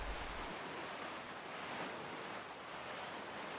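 Ocean waves and wind rush steadily while a boat sails across open sea in The Legend of Zelda: The Wind Waker HD, a constant broad wash of noise with no voices.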